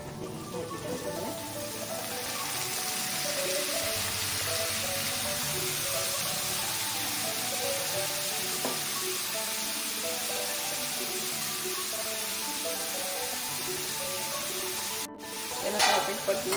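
Red pumpkin pieces sizzle as they are stir-fried in a pan, a steady close hiss of frying running throughout with faint stirring scrapes and a brief clatter near the end.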